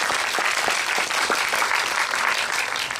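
A cinema audience applauds steadily at a film screening event, many hands clapping in a dense, even burst that carries on without pause.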